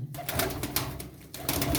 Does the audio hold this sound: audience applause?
no